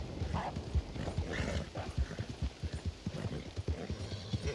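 Horse hooves clip-clop steadily in the Red Dead Online video game, a quick, even rhythm of close, distinct hoofbeats running through the whole stretch over a soft outdoor ambience.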